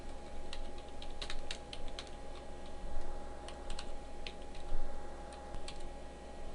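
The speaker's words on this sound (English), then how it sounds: "And now I can type the path and the file name." Fingers type a file path on a computer keyboard, a run of light, quick keystroke clicks at an uneven pace over a low, constant room hum.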